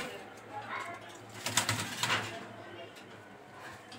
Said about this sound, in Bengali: বিগ সাইজের অরিজিনাল আফসান গ্রিজেল রেসার হুমা কবুতর